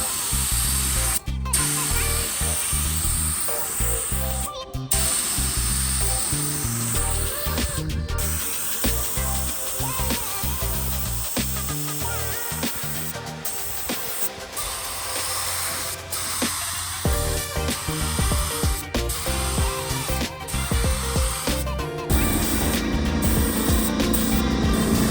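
A steady, loud hiss of an electric spray gun laying down clear coat on a car panel runs almost continuously, broken by brief pauses and restarts, close up with a constant mechanical hum beneath.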